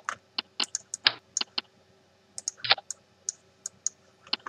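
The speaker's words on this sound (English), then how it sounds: "Sorry if you hear all the clicking noise" Computer keyboard keys click in irregular bursts, close and crisp, with short pauses between flurries of typing and no talking.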